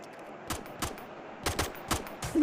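Several sharp bursts of video game gunfire crack out at irregular intervals, fairly close and punchy, with no voices.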